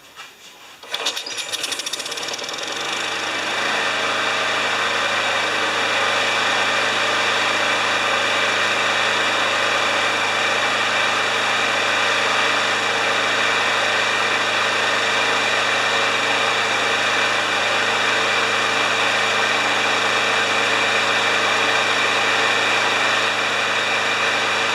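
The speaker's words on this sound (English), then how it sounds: "I'm going to start it on the stand. It's It's an automatic choke." A John Deere JS30 lawn mower engine with an automatic choke, sitting on a stand, cranks briefly, then catches and settles into a steady, loud, even running drone that holds unbroken to the end.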